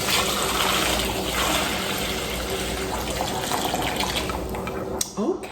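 Bone broth being poured through a strainer, a steady liquid stream splashing and trickling for several seconds before tapering off near the end, close and fairly loud with no talking.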